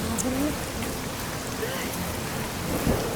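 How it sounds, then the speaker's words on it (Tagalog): A sudden rainstorm brings a dense, steady roar of heavy rain, with low thunder rumbling beneath it and a sharper crack near the end. "Bigla, bagyo na naman ba?"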